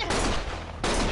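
Gunfire from the video game Lost Judgment comes as a dense, loud, rapid volley, briefly easing and then resuming at full strength.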